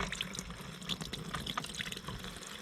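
Water pours into a small washing machine in an RV, a close, fairly quiet splashing and trickling stream that runs continuously, with no talking.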